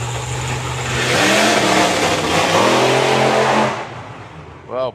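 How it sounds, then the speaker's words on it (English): Front-engine drag racing cars rev loudly at a drag strip, a sustained roaring engine note that swells and holds for several seconds before dropping away, with a short blip of revs at the end. "we're running front engine cars"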